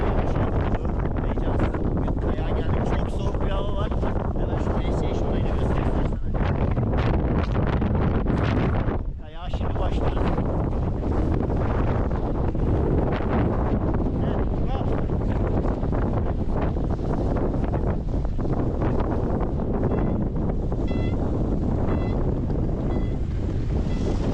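Strong storm wind on a ski slope at Palandöken roars and buffets the microphone continuously, a loud rushing noise with gusty rumble, with a voice speaking faintly underneath.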